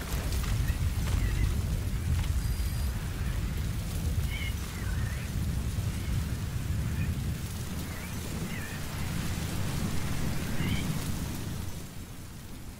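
Steady storm rain pours in Metal Gear Solid V: The Phantom Pain, a dense continuous wash with low rumbling beneath and a few faint tonal chirps, holding loud throughout before easing slightly at the end.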